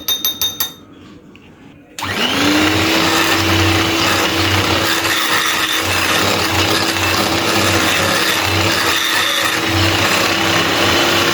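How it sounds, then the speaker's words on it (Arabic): An electric mixer whisks cocoa powder with milk for a cake batter. After a short clatter it starts with a rising whine, then settles into a loud, steady motor drone with scraping and rattling in the bowl. "غادي ناخذ الكاكاو ديالنا وغادي نضيفو عليه الكميه ديال الحليب اللي بقات ونطربوها مزيان"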